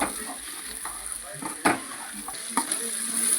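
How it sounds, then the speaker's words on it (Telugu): Okra (lady's finger) fries in a pan with a steady soft sizzle, while a utensil stirs and scrapes it in a few brief clinks and rustles at close range. "బెండకాయలు ఫ్రై అయిపోతు ఫ్రై అయిపోయాయండి"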